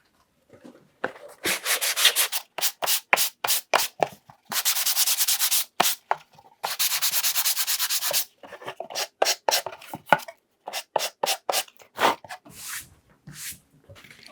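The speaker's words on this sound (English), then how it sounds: "Let me sand it." Hand sanding of a wooden book slipcase box: a run of quick, rhythmic rasping strokes with a few longer continuous passes, close and fairly loud, with no talking.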